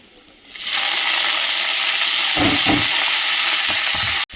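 Tilapia fish dropped into hot oil in a pan, bursting into a loud, close, steady sizzle that holds with a few crackling pops.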